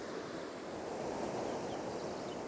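Rushing water pours steadily at the Cachoeira dos Pilões waterfall on the Sapucaí-Mirim river, where the current has carved mortar-shaped rock formations, a dense, continuous broadband roar with no pauses and no voices.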